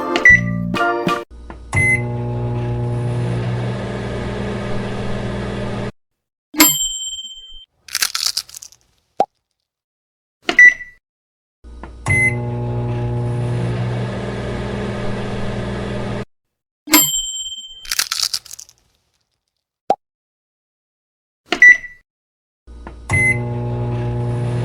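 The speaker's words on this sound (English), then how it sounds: "Let's heat up the food in our microwave." A toy microwave oven in a play kitchen runs in repeated cycles: a steady electronic hum with a low drone, punctuated by beeps, clicks and small plastic clunks between runs, with no talking.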